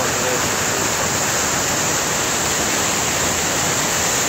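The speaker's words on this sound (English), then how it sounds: "The falls coming up the side of the cliff." A waterfall pours down a cliff beside a creek, a loud, steady broadband rush of falling water that fills the whole stretch without a break.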